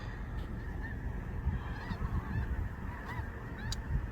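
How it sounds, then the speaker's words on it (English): A flock of geese honks faintly in the distance outdoors, with scattered overlapping calls over a low rumbling background. "Are those geese?"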